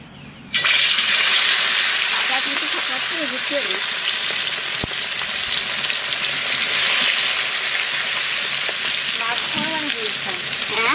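Salted chital fish belly pieces fry in a large kadai on a small stove: a loud, continuous hissing sizzle bursts in at once and holds steady, with faint voices underneath.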